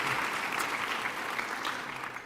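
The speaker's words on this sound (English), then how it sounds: "Maybe another round of applause for them and their team" An audience applauds the hosting team at a Greater Vancouver Board of Trade event, a dense, steady burst of clapping from a large crowd lasting a couple of seconds without letup.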